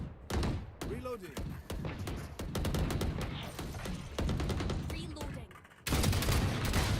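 Rapid bursts of gunfire from a Counter-Strike-style competitive shooter game, dense and loud, with overlapping shots and impacts, under a player's excited voice.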